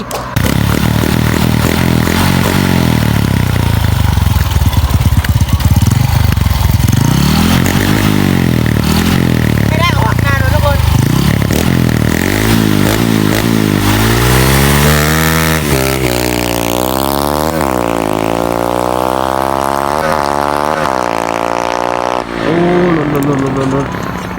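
A Honda Wave motorcycle with a modified setup is test ridden; the loud, close engine revs repeatedly, its pitch rising and falling through gear changes, then climbs steadily as it accelerates.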